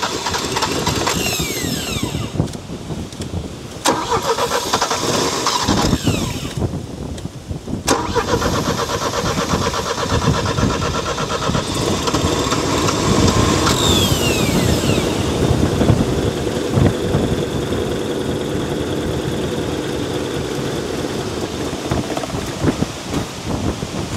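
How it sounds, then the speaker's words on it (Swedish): A car engine cranks with a few rough bursts before catching, then settles into a steady, loud idle that runs on evenly without speech. "det är bara att låta han tomgång här ett tag"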